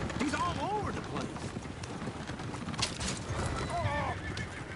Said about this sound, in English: Oh, shit, the horses! Damn horses!